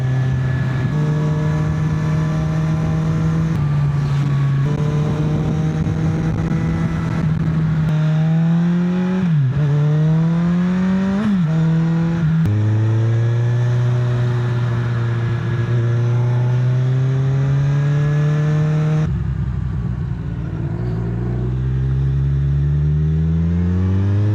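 A Kawasaki Z1000 motorcycle riding on the freeway, with its engine droning loud and steady, rising in pitch through several gear changes and then dropping off near the end, accompanied by constant wind rush.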